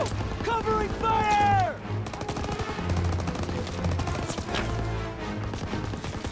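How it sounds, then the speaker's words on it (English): Rapid machine gun bursts rattle through a Call of Duty WWII firefight, loud and repeated, mixed with battle shouts and other game sounds. "Keep pressure on that MG!"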